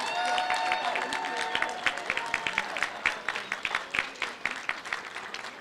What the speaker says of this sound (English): Can we have a round of applause for all of our veterans?